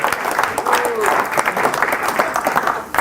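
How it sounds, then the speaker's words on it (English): An audience gives a round of applause at a talk, steady dense clapping filling the space for several seconds with voices mixed in underneath. "Round of applause is very good."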